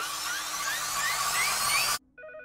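A ringing cheese-shaped phone in the 2012 TMNT cartoon gives off a bright, continuous electronic warble that cuts off abruptly, followed by a brief tonal beep.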